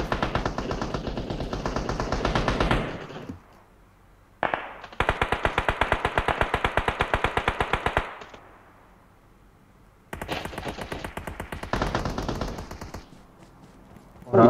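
Rapid automatic gunfire in a PUBG-style battle royale shooter, with long sustained bursts separated by short pauses and quiet gaps, loud and close, with no talk over it.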